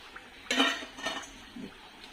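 Fried vadas made with bajra flour are lifted out of a pan of hot oil, producing a couple of metallic clinks and scrapes from a utensil against the pan, fairly close and quiet, with no talking.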